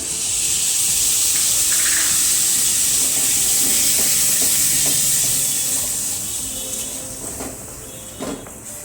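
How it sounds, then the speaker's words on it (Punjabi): Tomato puree and crushed green chillies in a tempering sizzle steadily in a pan for a mix veg dish, a constant loud hiss with faint stirring clicks that eases slightly toward the end. "ਤੜਕੇ ਨੂੰ ਹੁਣ 4-5 ਮਿੰਟ ਵਾਸਤੇ ਪਕਾ ਦਵਾਂਗੇ"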